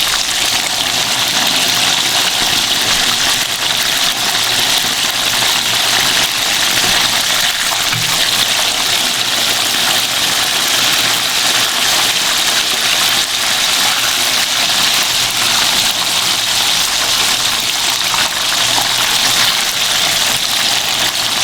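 Hot oil sizzles loudly and steadily as fish fries, a dense hiss with no breaks and no one talking.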